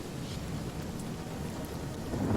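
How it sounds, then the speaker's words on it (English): Spell-summoned rain cloud in the Divinity: Original Sin video game, a steady hiss of rainfall with a low rumbling undertone that swells slightly toward the end. "Perfect, now I have some rain cloud."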